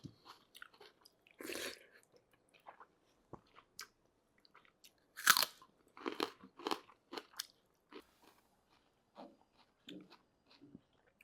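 Sharp, close crunches of someone biting into a raw onion, a few loud bites followed by scattered wet chewing sounds separated by quiet pauses, with no talking.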